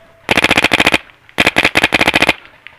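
Paintball guns fire in two rapid, close bursts of about eight to ten sharp pops each, with a short pause between them, during a paintball game. No one speaks.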